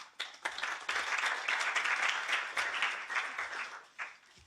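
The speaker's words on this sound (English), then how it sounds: "a round of applause for Mirko Barbero." A conference audience in Brussels applauds a speaker, a swelling burst of many hands that rises quickly, holds dense and steady, then thins toward the close.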